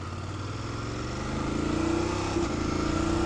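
A BMW F850GS motorcycle engine runs steadily and close by, with a droning, even tone that swells slightly in loudness and pitch partway through.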